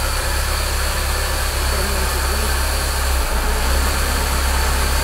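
A Chevrolet Corsa engine runs at a steady, loud idle with a constant low rumble while its gears are being tested, with a faint murmur that may be voices underneath.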